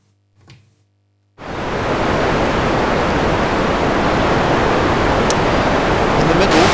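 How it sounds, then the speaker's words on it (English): Broadband white noise runs through a Passive Tools 2 high-pass filter plugin, a loud steady hiss switching on abruptly after a short quiet moment and holding evenly, with faint brief ticks near the end. "I'll test it on some white noise, so that the cutoff is very evident."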